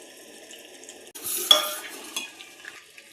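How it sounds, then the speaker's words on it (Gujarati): Sugar syrup for besan barfi simmering over a low flame while being stirred, a soft steady bubbling that turns into a louder burst of scraping and sizzle partway through, then settles back down. "આપણે ધીમા ગેસે ચાસણી ઉકળે છે"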